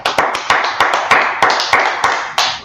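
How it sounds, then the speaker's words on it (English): Rhythmic group clapping at a Tuesday brotherhood class, sharp beats landing about every quarter second in a steady pattern, loud and close. "Let's clap it up for the Lord"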